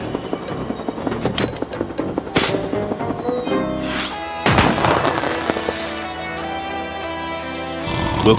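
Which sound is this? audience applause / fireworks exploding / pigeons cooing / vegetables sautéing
fireworks exploding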